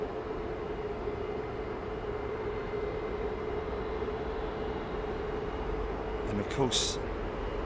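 A Boeing 777-9 departs runway 09R at Heathrow Airport with a steady, distant jet roar and rumble, while someone talks briefly over it.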